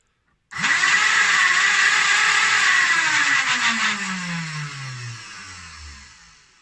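Flywheel motors of a Nerf Hera blaster fitted with a MOSFET board whir up abruptly to a loud, steady high whine, then spin down over several seconds with a falling pitch, heard alone.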